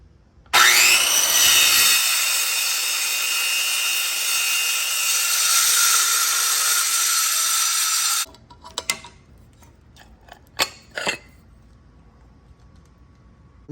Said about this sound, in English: so I'm gonna cut off all this extra material now